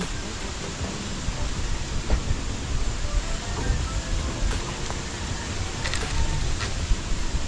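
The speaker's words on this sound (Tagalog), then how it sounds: "Lumayo ka, ulan!" Steady rain pours down in a dense, loud hiss with scattered drips and patters on a surface, continuous throughout with no voices.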